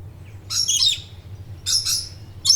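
A parrot calls in three short, bright, squawky bursts, each separated by a brief pause, close by against a quiet background with no talking.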